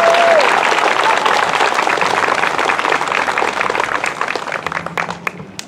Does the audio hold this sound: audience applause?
yes